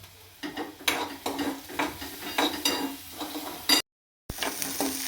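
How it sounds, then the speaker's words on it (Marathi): Onion fries in a pan for a bitter gourd (karela) dish: a steady sizzle under quick, repeated spatula strokes and scrapes. The sound briefly cuts out once, then the sizzle comes back. "तर आता कांदा भाजून घेते"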